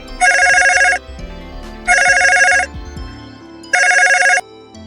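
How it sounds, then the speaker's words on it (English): A telephone rings in a Martha's Vineyard house, three loud, evenly spaced electronic ring bursts, each lasting under a second with short pauses between. "And then the phone rang."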